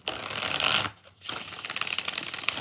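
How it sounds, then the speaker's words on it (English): Tarot cards shuffled by hand, a dense riffling flutter in two close bursts separated by a brief pause. "2 more shuffles."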